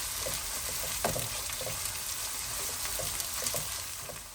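Crushed garlic and chili frying with onions in a pan for a Fiji-style potato and pea curry, a steady close sizzle broken by soft crackles and a few stirring clinks, with no voices.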